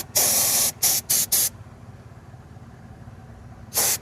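Silver paint hisses from a spray can onto a Porsche wheel rim being repaired for curb rash. There is one long, loud burst, then three short bursts in quick succession, a pause, and a final short burst.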